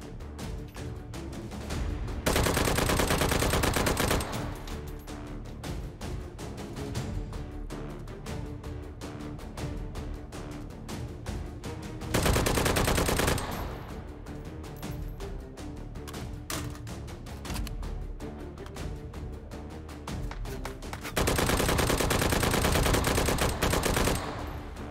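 Long automatic bursts from a drum-magazine gun in the VR game Hot Dogs, Horseshoes & Hand Grenades, steady rapid fire rattling close and loud, interrupted by a few brief pauses, with no talking.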